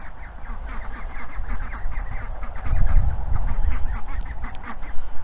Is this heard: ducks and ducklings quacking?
yes